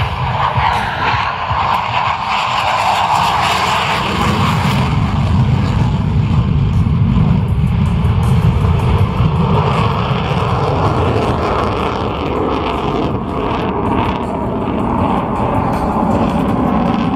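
A military jet on landing approach to a runway at the Iwakuni air base friendship day, slowing down ahead of a tailhook arrested landing; a loud, steady jet engine roar holds throughout with no break.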